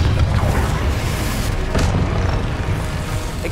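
A Confringo blast spell bursts in Hogwarts Legacy, a loud, booming explosion with a sustained low rumble that swells again midway through, heard alone without voices.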